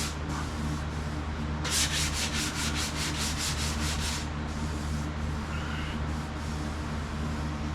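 Steady hand sanding of a paint run on a car body panel, a continuous close rasping scrub with a brief louder stretch of quick strokes, over a constant background hum.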